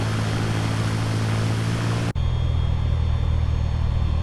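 Small general aviation propeller plane on its takeoff roll in the Infinite Flight simulator, a constant loud engine drone with a steady low rumble, broken by a momentary dropout before the engine tone shifts and carries on.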